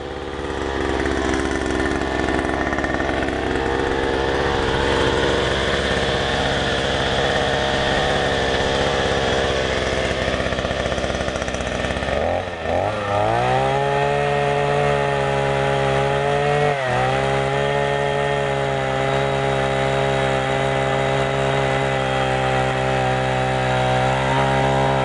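A small petrol engine on an earth auger roars loudly and steadily, drops briefly midway, then settles into a constant buzzing run with no talking.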